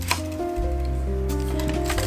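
The advance lever of a Canon AE-1 film camera is wound, making a brief close mechanical ratcheting and clicking sound over steady background music.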